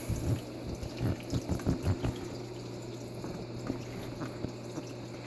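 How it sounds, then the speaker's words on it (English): Water splashing steadily from a small rock waterfall in a red clawed crab tank, a low continuous trickle and patter with a few brief louder splashes near the start. "I like the waterfall effect and the splashing."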